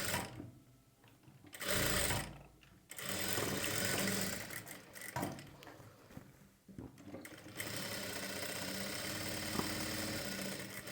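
A sewing machine stitches a single katori blouse in fast whirring bursts separated by brief pauses, the longest run steady near the end, close and clear with no talk over it.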